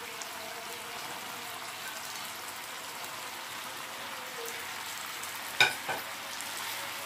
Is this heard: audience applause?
no